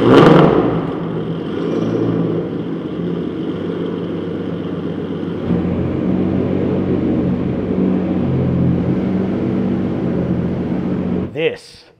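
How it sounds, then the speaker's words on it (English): A Lamborghini Diablo SV V12 fires up with a sharp cold-start burst, then settles into a loud, steady high idle with deep rumble before cutting off, while people talk nearby. "We gotta hear a cold start on this anyway"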